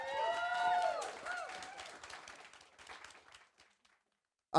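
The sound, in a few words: audience applause for Nick Corletto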